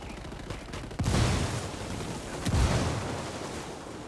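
Gunfire in the tactical shooter Ghost Recon Wildlands: two heavy, booming bursts of shots, the second after a short gap, each trailing into a loud, sustained rumble of battle noise.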